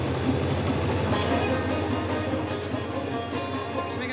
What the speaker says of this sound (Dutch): De trein moet voor één opname dan ook vaak rijden.